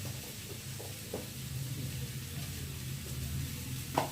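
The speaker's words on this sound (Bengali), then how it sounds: "এদিকে মশলাটা আলুটার সাথে ভালো করে কষিয়ে নেবো" Spice paste and potatoes fry together in a pan, a soft, steady sizzle under a few faint stirring scrapes and one sharper clack near the end, heard alone and fairly quiet.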